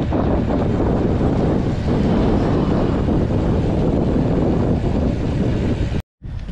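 Strong, cold wind with light drizzle at Kaliraya roars steadily into the microphone, a dense broadband rush with no voices, cutting out briefly near the end.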